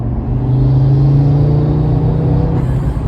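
2018 Audi RS3 with exhaust valves open, a deep steady rumbling engine note under light throttle, loud and close from inside the car, holding a fairly constant pitch with no speech.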